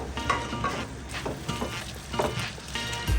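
Masala for prawn curry sizzles in a pan while a spoon stirs and scrapes it in steady repeated strokes, close and continuous.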